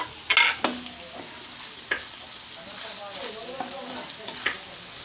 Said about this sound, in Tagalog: Gigisa na po natin. Unahin natin si Bawang.